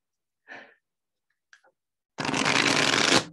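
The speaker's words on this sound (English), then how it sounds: "The sound of the shuffling is so satisfying." Tarot cards riffle-shuffled close to the microphone, a dense, crisp burst of papery flutter lasting about a second after a couple of soft breaths.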